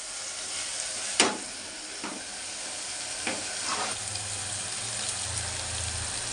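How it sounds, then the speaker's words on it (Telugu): Prawn shells cook in a pan for a ridge gourd curry, giving a continuous bright sizzle and hiss with several scraping stirs and a low bubbling near the end, close and without talk. "రొయ్య పొట్టు వేస్తాను ఫ్రెండ్స్. ఇది కూడా కాసేపు మగ్గనిద్దాం."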